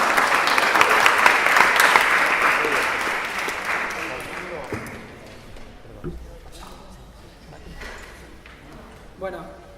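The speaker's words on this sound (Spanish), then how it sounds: "un aplauso para descomprimir la mesa" Audience applause at a circus and social transformation conference panel, loud sustained clapping for several seconds that fades into scattered claps and room noise.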